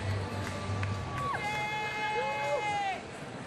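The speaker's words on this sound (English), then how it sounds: "Sold out crowd on this Sunday afternoon." Sold-out crowd at a Sunday afternoon Pirates–Dodgers baseball game in Pittsburgh, a steady broad murmur of thousands of fans throughout, with a rising whistled or organ-like tone line cutting through the middle.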